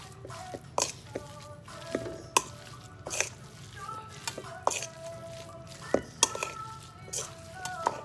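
Meatloaf mixture for an Asian-style meatloaf being mixed in a bowl, giving intermittent close clinks and soft squelching knocks against the bowl at an irregular rhythm, fairly quiet, with no talking.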